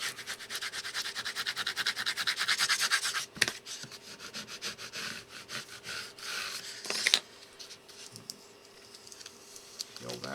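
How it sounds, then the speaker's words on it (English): Squeegee rubbed across vinyl lettering laid on a stained wooden sign, giving repeated close scraping strokes with brief pauses and a sharper swipe near the middle. "Smooth it out with our squeegee."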